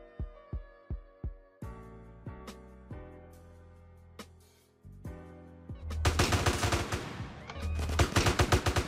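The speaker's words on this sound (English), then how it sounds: "Blazing with the AK-47 against the Soviet with the team." AK-47 gunfire in the video game GTA San Andreas: separate sharp shots at first, then faster bursts and a dense rapid volley near the end, loud and close with ringing tails.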